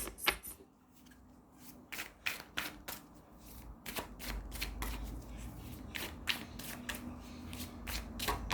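Playing cards being shuffled and arranged by hand on a table, a series of short crisp riffles and slaps at close range, with quiet rubbing between them.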